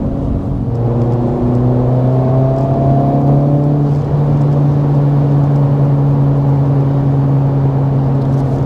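A 2024 Acura Integra Type S, front-wheel drive, driven hard along a canyon back road, its engine holding a loud, steady high-revving drone with a shifting pitch early on, close and continuous with no talk.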